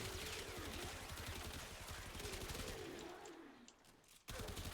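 Rapid automatic gunfire from a starter weapon in Warframe, a dense stream of close shots that thins out near the end before one last sharp burst.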